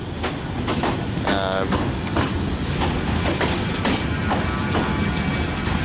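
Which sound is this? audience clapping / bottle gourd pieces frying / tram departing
tram departing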